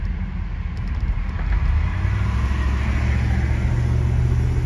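Interior rumble of a 1972 Imperial LeBaron under way with its 727 TorqueFlight automatic, a low engine drone that swells after a moment and then holds steady and smooth.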